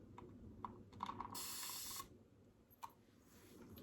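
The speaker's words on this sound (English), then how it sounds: "Watch how many times I click it and watch how much it sprays." A hair spray bottle gives a few light trigger clicks, then releases a steady fine hiss of mist lasting under a second, followed by another soft click, close and quiet with no talk.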